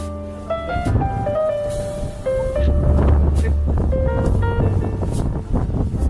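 Strong typhoon wind buffeting the microphone at a Hong Kong harbour on a rainy day, a loud continuous roar and rumble with tonal humming sounds over it.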